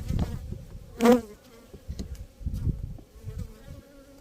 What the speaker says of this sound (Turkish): Arımız daha petekte de daha yavru faaliyetine geçmemiş.